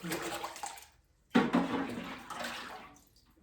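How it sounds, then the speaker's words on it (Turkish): Water poured out of a container onto the ground outdoors at a village home, a steady splashing gush that cuts off, then resumes with a sudden louder surge and tapers away; no talking. "Şu suyu dışarıya dökeyim geleyim."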